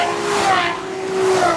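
A 2016 Ferrari F12 TDF drives past, its engine a steady, loud, tonal hum that rises and dips slightly in pitch.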